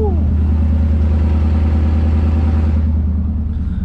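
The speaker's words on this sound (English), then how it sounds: "So here is your cold start." Cold start of an 88-98 OBS Chevrolet C1500 pickup that needs exhaust work, heard as a loud, steady low idle rumble, close up and continuous with no talk.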